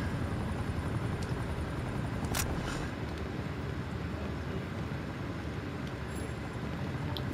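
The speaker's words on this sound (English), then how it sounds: "That damn helicopter." A helicopter in the video game Call of Duty Black Ops Cold War flies overhead, its steady rotor and engine roar continuous and loud, with a few sharp bursts of game noise.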